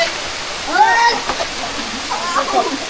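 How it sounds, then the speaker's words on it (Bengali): A waterfall at Sajek rushes with a steady broadband wash, close by, while people talk over it. "ওই যে ঝর্ণা, আপনাদের একটু দেখাই, ওই যে ঝর্ণা।"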